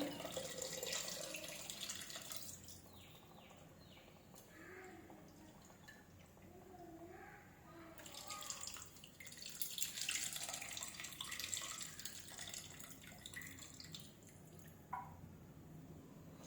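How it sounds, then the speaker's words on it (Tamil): Tamarind water poured into a clay pot while cooking vendakkai puli kulambu, a fairly steady splashing trickle with a couple of louder surges, close by, with some faint talk beneath. "ஸோ அந்த புளி தண்ணியை வந்து அப்படியே ஊற்றிடலாம்."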